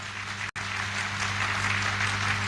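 Dense, steady applause from an audience at a SafeShop business meeting in India, with many hands clapping at once. It fills the whole stretch, with a brief dropout near the start and a low electrical hum underneath.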